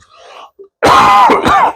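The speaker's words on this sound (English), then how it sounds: "Sorry, I keep coughing." A brief soft rustle, then a harsh close cough or throat-clear in two rough bursts.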